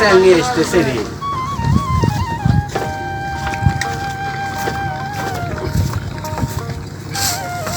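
Trawlers and speedboats at Aricha ferry ghat on the river in Manikganj give a droning, tonal engine whine that rises and steadies, close and fairly loud, under nearly continuous talking.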